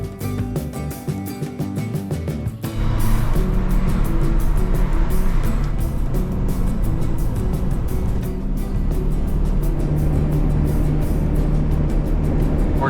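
A 1980s Nissan Hardbody 4x4 pickup drives along a mountain highway, its engine and road noise making a steady, loud drone that swells after a quieter start, with no talking.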